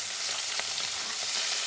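Fish head frying in a pan with onion and garlic gives a steady, close, even sizzle with faint crackles throughout the short stretch, and no voices.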